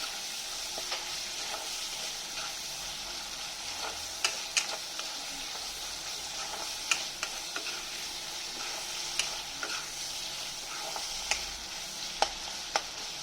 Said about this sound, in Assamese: এতিয়া মই পিঁয়াজখিনি অকণমান লাইট গোল্ডেন ব্ৰাউন হোৱালৈকে ভাজিম।